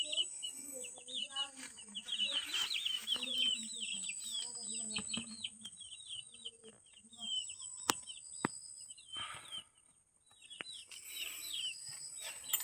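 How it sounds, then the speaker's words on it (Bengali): Tiger chicken chicks in a small coop, giving steady high-pitched chirps close by for most of the clip, with occasional clucks from nearby fowl and a few sharp knocks. "এগুলো হচ্ছে টাইগার মুরগির বাচ্চা।"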